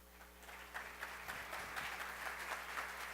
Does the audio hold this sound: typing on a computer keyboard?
no